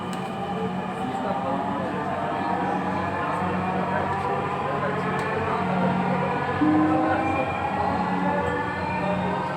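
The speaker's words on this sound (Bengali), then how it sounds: "একটি এলো আরেকটি যাচ্ছে, এবং এই মেট্রো রেলটির ডোর ওপেন হবে এখন 9 সেকেন্ড টাইম" A Dhaka metro rail train stands at a station, giving a steady rumbling hum with a sustained electric whine that runs continuously throughout, with faint background voices.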